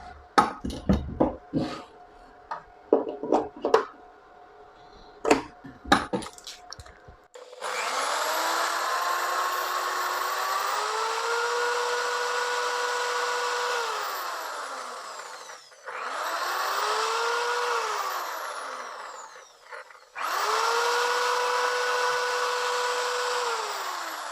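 An electric drill's commutator motor whirs loudly in three sustained runs, each spinning up and winding down, after a few sharp clunks and handling noises.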